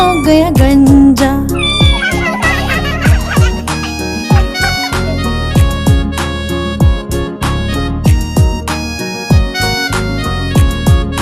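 Cartoon cat meowing in a Hindi children's rhyme, a series of loud, repeated bright meows in a regular rhythm over a bouncy musical backing, with no talking.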